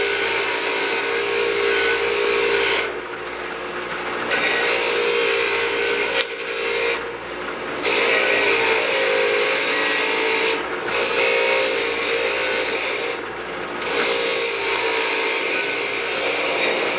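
A tool deburring cut metal edges on a lower control arm piece, a continuous harsh rasping grind in several long passes broken by brief pauses, close and fairly loud with no voices.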